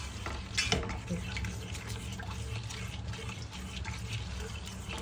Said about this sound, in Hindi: दही को इसी तरीके से हमने चम्मच चलाते रहना है